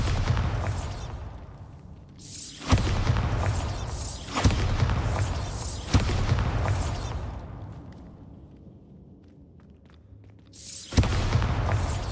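A Bombarda spell in Hogwarts Legacy sets off repeated loud booming blasts, each a sharp bang followed by a rumbling decay, spaced a couple of seconds apart with a brief lull before a final blast.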